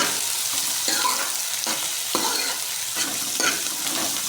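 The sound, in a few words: stirring and frying onions in ghee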